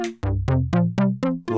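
Modular synth arpeggio notes with an extra resonant envelope blip, about seven quick plucks in steady rhythm, each opening with a sharp bright bite before fading, clear and unaccompanied.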